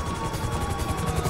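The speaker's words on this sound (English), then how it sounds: "Get in the helicopter." A helicopter in the GTA Online video game gives a loud, steady rotor chop with rapid, even pulses over a constant engine drone.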